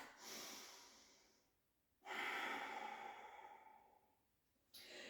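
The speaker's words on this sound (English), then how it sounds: "Take a breath." Long, deliberate breaths drawn through the nose and released during a Kundalini yoga Nabhi Kriya practice, with an inhale followed by a longer, stronger exhale and another breath beginning, all close and soft.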